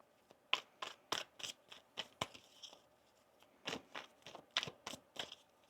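Crisp, papery riffling bursts in quick uneven clusters as tarot cards are shuffled close by, with a short pause midway before another flurry.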